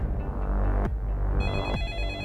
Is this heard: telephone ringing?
yes